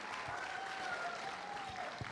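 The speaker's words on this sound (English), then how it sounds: "Can we have a round of applause for these amazingly talented people from the Music Club of" Audience applause at an alumni association festival event following a music club's performance, a dense, even patter of clapping from a crowd, held at a fairly soft level with faint tonal sounds threaded through.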